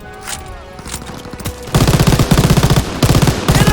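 MG42 machine gun firing in the World War II shooter game Call of Duty WWII: loud, rapid, sustained automatic bursts that start abruptly partway through and continue as a steady rattling stream over background battle noise.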